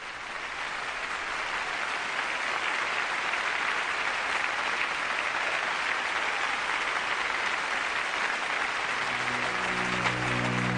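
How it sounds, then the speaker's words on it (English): Sustained crowd applause for Stalin at an assembly, a dense, steady roar of clapping from many hands that continues unbroken throughout, with a faint tonal sound entering near the end. "The applause would go on for so long that bells were eventually used to signal an end to the clapping."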